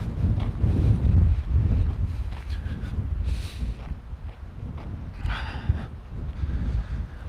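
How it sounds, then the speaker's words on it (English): Outdoor wind buffeting a microphone in a steady low rumbling roar that swells and eases over several seconds, with no talking. "Oh, folks, the wind is back, and it's on my back right now."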